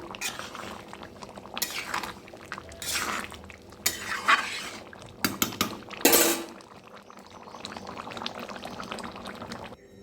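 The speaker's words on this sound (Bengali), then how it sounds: "তারপরে একটা পাত্রে ঢেলে নেব।" Prawn curry is poured from a pan into a container in a home kitchen, with liquid splashing in bursts, metal clinks and scraping between, fairly close and without talk.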